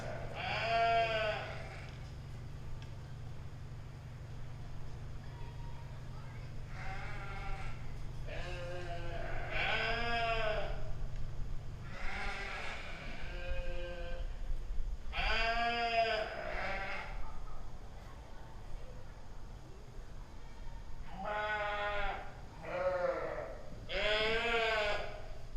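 Blackface ewes at a 4-H sheep show bleat loudly and repeatedly from close by, calls overlapping at irregular intervals over a low steady background hum.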